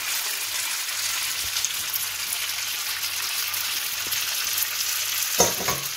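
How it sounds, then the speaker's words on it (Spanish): Spaghetti dropped into hot garlic-infused olive oil gives a steady, close frying sizzle with a dense crackle throughout, then a few brief clattering stirs near the end. "una vez que el ajo está caliente, lo que vamos a hacer es ya vamos a añadir los espaguetis"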